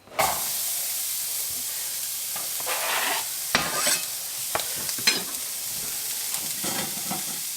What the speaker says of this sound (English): while those onions are frying